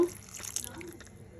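Water is added to cucumber gojju as it cooks, a soft, low pour with faint trickling and dripping that fades in and out quietly.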